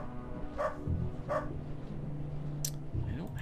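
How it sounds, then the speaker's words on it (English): Two dogs in the video game Underrail bark, with a couple of short distinct barks followed by a yip, heard under a speaking voice and low background noise. "and I think 2 dogs."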